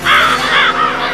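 A crow caws three times in quick succession, loud and close, harsh rasping calls with short gaps between them and no talking.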